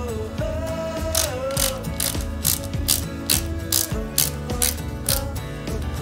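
Ratcheting screwdriver driving two small screws into a Bugatti Veyron 16.4 Super Sport model kit, a close, rapid run of mechanical clicks with short pauses between bursts, heard alone.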